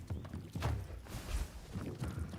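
Horse hooves clip-clopping in a horse racing video game, an uneven series of hollow thuds at moderate loudness, with a brief whinny-like tone mixed in.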